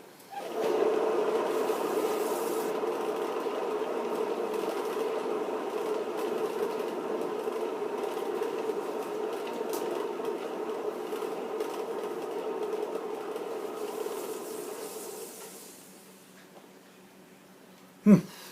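A motorized spinner turns an acrylic paint pour with a steady mechanical whir that holds for about fifteen seconds, winds down, and ends with a single sharp knock.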